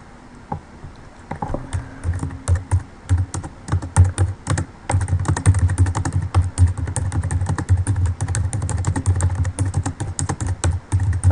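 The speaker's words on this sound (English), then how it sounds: "So you type in." Typing on a computer keyboard: rapid, uneven clacking keystrokes close to the microphone, building from a few taps into steady continuous typing, with no talking.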